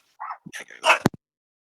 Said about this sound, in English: My dog started barking because pizza's here